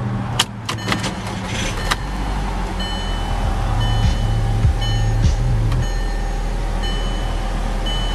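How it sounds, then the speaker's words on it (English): A turbocharged four-cylinder car starting with a key: a few clicks from the key, then the engine catches and settles into a loud, steady idle hum close by. "To start it, just insert the key and hold it in."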